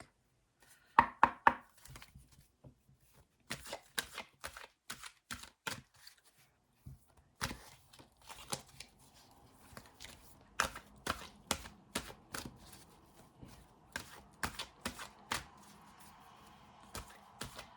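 An oracle card deck being shuffled and a card pulled: a run of crisp, rapid card taps and riffles, close and fairly quiet, with no talking.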